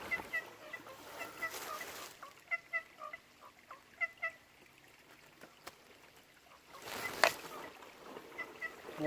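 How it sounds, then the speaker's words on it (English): Harsh, rasping wattlebird calls sound in short bursts from bushland near the Hawkesbury River, moderately close, with gaps between them and a thin wash of background noise. "wattle bird."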